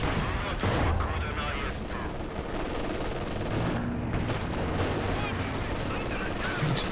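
Machine gun fire in a Company of Heroes 2 battle, dense overlapping bursts and booming explosions forming a loud, continuous wall of combat noise with a voice faintly mixed in.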